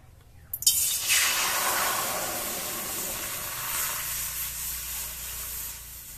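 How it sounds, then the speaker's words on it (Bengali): Water poured into a very hot wok bursts into a loud, close sizzling hiss. The hiss holds strong for a few seconds, then slowly fades into a softer steady steam. "কড়া গরম হয়ে গেছে, কড়াতে আমি জল দিয়ে দেব"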